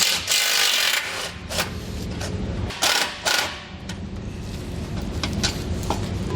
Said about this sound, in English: 1/2-inch socket, we'll remove the two nuts.